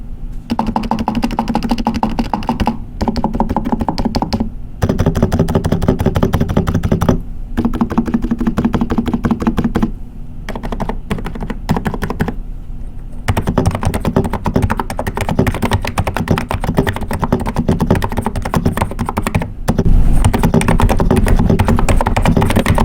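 Steady typing on a NIZ Plum 82 electrocapacitive keyboard with soft, muted keystrokes in continuous bursts, close and clear, broken by brief pauses.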